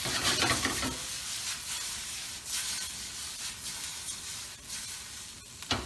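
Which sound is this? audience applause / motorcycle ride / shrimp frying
shrimp frying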